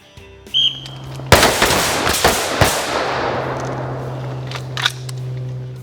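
AR-15 rifle fired during reload drills at an outdoor training course, a rapid string of loud, close sharp shots with ringing echo decaying afterward and a metallic click near the end.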